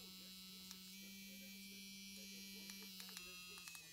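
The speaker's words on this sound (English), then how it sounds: "It's one great tattoo machine." A BAMA Ambition Soldier 4.2 stroke rotary tattoo machine running at a steady, even electric buzz with a constant hum close by, faint clicks near the end and no talking.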